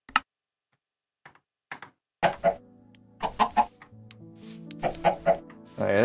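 Minecraft chicken sounds play as a series of clucks and bawks. A few faint ticks come first, then clearer, louder clucking follows in irregular bursts, with no one speaking.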